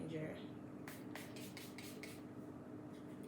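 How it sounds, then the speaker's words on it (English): Adore Naturally Good Skin Setting Spray is misted in a run of about six quick, short bursts, close and crisp, with faint background noise before the first bursts. "This is Adore Naturally Good Skin Setting Spray."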